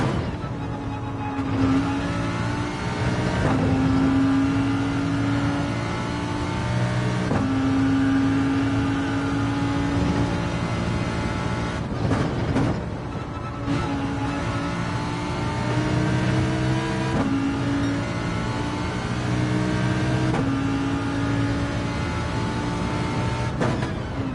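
All-wheel-drive race car engine in a racing video game, revving hard in repeated rising pulls with brief lifts between them, loud and continuous, without talk.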